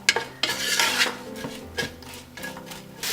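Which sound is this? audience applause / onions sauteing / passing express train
onions sauteing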